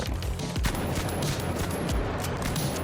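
Rapid shotgun blasts from the SA1216 in The Finals, a dense close-range barrage of heavy booming shots layered over constant game-action noise with no gaps of silence.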